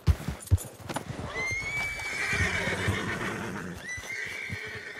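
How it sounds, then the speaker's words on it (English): A horse being tamed at a ranch near Saint Denis in Red Dead Redemption 2 gives a drawn-out neigh and a second whinny, with hoof clip-clops and stamping around it, moderately close. "Wow, fine horse there."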